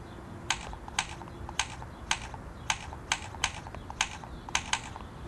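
Taps on an Apple Newton's on-screen keyboard while entering a word: about ten sharp, evenly spaced clicks, close and fairly quiet, with no talking.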